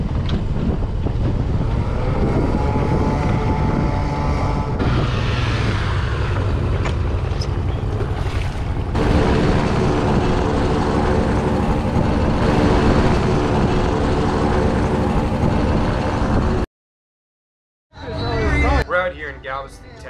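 A boat motor drones steadily while cruising over a tidal mud flat at Galveston, Texas, with wind buffeting the microphone throughout, a sudden cutout near the end, then the engine returns.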